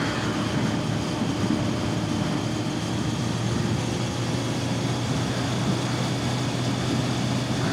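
A Honda Blackbird motorcycle on a test ride after a new stator, rectifier and battery, its engine droning steadily and loudly with constant wind rush, no voices.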